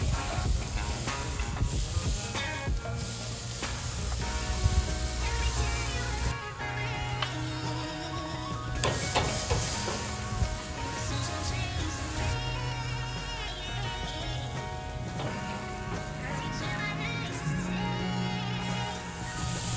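Steak searing hot and fast on a grill gives off a steady, continuous sizzling hiss that runs for the whole stretch beneath louder background music.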